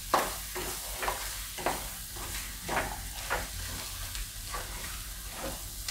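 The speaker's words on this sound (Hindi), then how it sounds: "अब इसमें हम मटर डाल देंगे, इसको भी मिक्स कर लेंगे।" Peas tossed into a pan of turmeric sabzi fry with a constant hiss, punctuated by regular scraping strokes of a spoon mixing them in.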